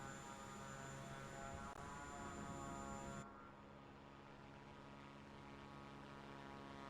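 A de Havilland Beaver propeller plane in a flight simulator game in Alaska, a continuous droning engine hum that drops slightly in loudness partway through, with no talking.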